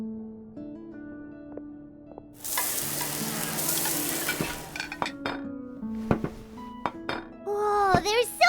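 Food is being cooked in the Genshin Impact video game, with a burst of frying sizzle, then clinking dishes, stirring and utensil taps, all set over soft game music and voices.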